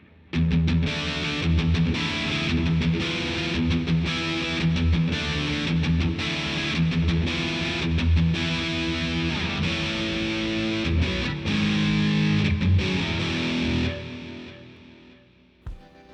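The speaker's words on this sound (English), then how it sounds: "we're going to get that classic 80s distortion sound on metal albums" An electric guitar plays chugging rhythm riffs through classic 80s metal high-gain distortion with mids set low, thick and loud with choppy palm-muted stops, then rings out and fades at the end.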